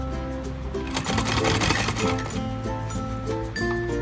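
A sewing machine runs a continuous seam on a designer kurti, its rapid needle chatter loud and steady throughout with faint metallic clinks mixed in.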